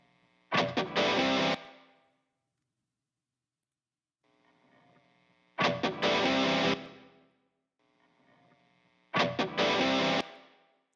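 Three loud strummed bursts of distorted electric guitar, each ringing out into a reverb tail before near silence returns.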